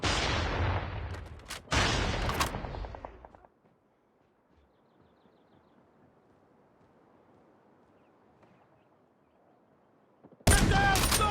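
Shotgun fire in Call of Duty Mobile, loud close blasts in a burst at the start, then near silence with faint background noise, and another loud burst of shots at the end.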